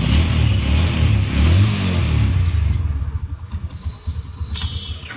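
A second-hand motorcycle engine at a used-bike dealer is revved hard in a loud, roaring burst, then drops back to a pulsing, chugging idle with a few lighter throttle blips, close by.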